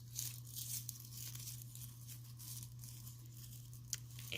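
Hay being crumpled and torn by hand to fill a hay net, a soft continuous crackling rustle with a few sharper snaps over a steady low hum.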